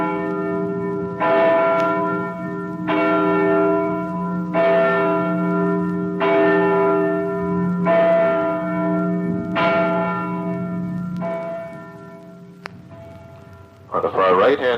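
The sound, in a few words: King's Chapel church bell in Boston, cast by Paul Revere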